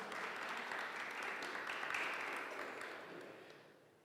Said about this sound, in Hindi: सारा के लिए जोरदार तालियां बजाई जाए जरा